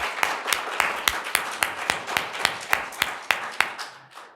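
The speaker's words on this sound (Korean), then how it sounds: "다 같이 축하와 축복의 박수를 한번 나누기를 원합니다" A church congregation at a 36th anniversary thanksgiving service claps together in a steady, rhythmic beat, about three claps per second, in a clear, moderately loud room that fades slightly at the end.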